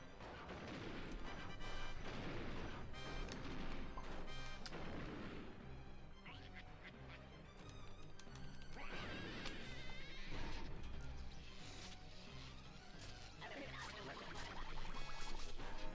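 Boss firing rockets at a barrel in Donkey Kong 64, heard as repeated booming blasts in a dense, busy game mix with music, steady and fairly loud throughout.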